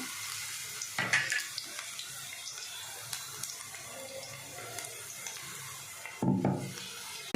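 Ginger garlic paste fries in a pan for chicken curry, giving a continuous, moderately loud sizzling hiss with a couple of sharper bursts and clatters. No one speaks.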